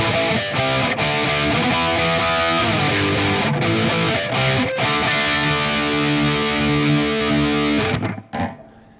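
Ibanez S770 electric guitar playing a riff through distortion and reverb, loud sustained chords and notes with brief breaks, ending in a trailing decay.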